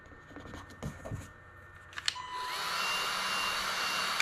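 A heat gun warming vinyl wrap during a large-graphics install starts after a few scratchy handling noises and settles into a steady, loud airy whine and rush that holds to the end.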